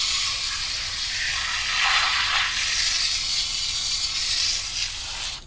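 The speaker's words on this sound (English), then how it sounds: "take your hose and spray up under here like so." Water from a hose sprays up under the brush of a Bissell TurboClean DualPro Pet carpet cleaner, a steady close hiss of spray with slight fluctuations, unbroken by talk.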